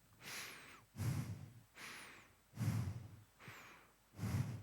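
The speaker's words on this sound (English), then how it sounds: "So that's a small breath." Slow, controlled breathwork breaths, close to the microphone, alternate between airy inhales and heavier, louder exhales in a steady rhythm of about three cycles, with no speech.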